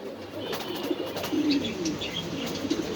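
Pigeons coo softly in a loft, with low rolling calls repeating every second or so amid faint chirps and steady background noise.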